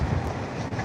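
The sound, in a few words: wind blowing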